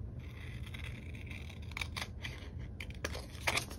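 Scissors cutting a planner sticker sheet in half, a few quiet close snips and crisp paper rustles over a steady low room hum.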